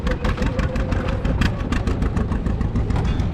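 A tractor engine runs at a farm, a loud, steady, close rumble with no breaks and no talking over it.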